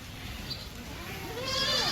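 Pregnant goats bleat over a noisy background, with one wavering bleat swelling clearly toward the end.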